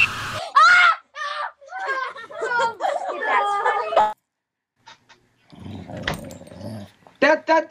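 A small dog, a puppy, growls and snarls over an online video chat. The short, rough bursts come close and fairly loud, broken by a brief silence, and people talk over and around them.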